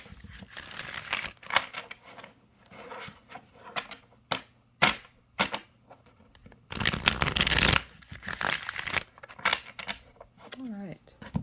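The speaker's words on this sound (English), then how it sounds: "I haven't done a whole lot of that kind of bridge shuffle" Tarot cards being bridge shuffled, with repeated papery riffling bursts, quick flutters and taps up close, one long loud cascade in the middle, and pauses between.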